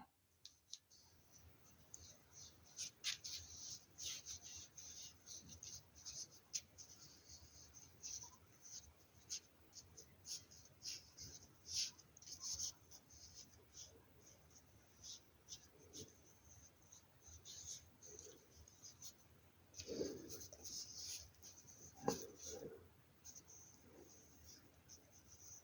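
A pencil writes Korean letters on paper in a calligraphic letter style, giving soft, faint scratching strokes and small taps in an irregular rhythm, close and quiet, with some low murmuring speech in places.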